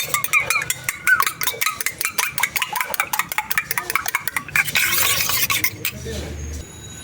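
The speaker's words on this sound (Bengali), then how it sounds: "এবার ডিমের মধ্যে সামান্য একটু লবণ দিয়ে ডিমটাকে ভালো করে ফেটিয়ে নেব।" Egg with a pinch of salt beaten in a bowl, a fast run of close, sharp tapping strokes, ending in a brief louder hiss.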